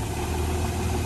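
A 1962 Plymouth diesel locomotive engine runs steadily at a low, rumbling idle, close and loud, with a constant vibrating drone and no distinct rev surge.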